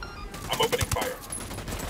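Gunfire in the Ghost Recon tactical shooter: a rapid burst of several sharp shots over a busy background of game ambience, with a voice talking at the same time.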